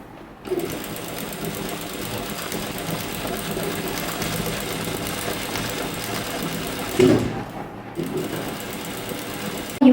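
A sewing machine top-stitches along the edge of a jumpsuit strap, running as a steady, loud mechanical whir for several seconds with a short break near the end.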